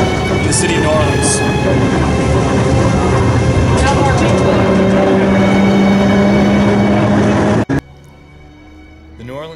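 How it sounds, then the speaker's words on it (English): A New Orleans St. Charles streetcar rumbles and rattles loudly and continuously with a sustained whining tone, then cuts off abruptly to a much quieter background near the end. "The New Orleans-St. Charles streetcar line is the oldest continuing street railway system in the world."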